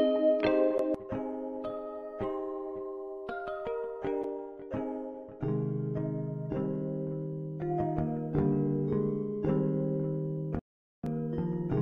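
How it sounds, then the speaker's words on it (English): Synthesized bell tones from Omnisphere in FL Studio, with the highs cut, play a bright melodic sequence of struck notes. The notes ring with short decays, sound clear and close, and stay steady throughout, with one brief gap near the end. "I just cut out the highs on this one bell just so it sits under this one pretty well"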